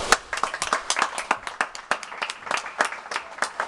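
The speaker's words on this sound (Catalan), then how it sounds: "un aplaudiment per ell." A small crowd claps at a 24-hour swimming event, steady rapid applause without pause, moderately loud.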